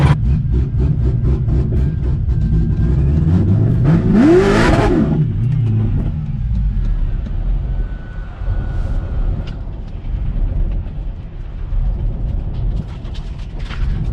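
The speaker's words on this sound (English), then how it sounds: "Was trying to do a rolling burnout to heat the tires up" A supercharged 441 LSX engine in a C6 Corvette Z06 revs hard during a rolling burnout and climbs in pitch, then drops off and idles roughly as it loses power, with a steady rumble throughout.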